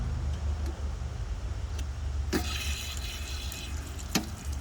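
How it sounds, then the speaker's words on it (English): Water under pressure escapes through the bleeder valve of an Atwood RV water heater, a continuous rushing hiss over a low rumble. A few sharp clicks and spurts are heard near the end. "relieve some of the pressure with the pressure valve, with the bleeder valve, which is right here"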